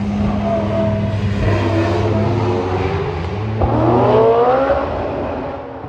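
Drift cars at a race track built inside a large forest in Riga roar past loudly, with continuous engine revving and rising pitch sweeps as they accelerate through, steady and close throughout.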